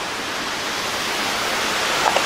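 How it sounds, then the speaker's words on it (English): A loud waterfall near a covered bridge gives a steady, broad, hissing roar throughout, close and unbroken, with no voices. "Man, that waterfall is, it's loud."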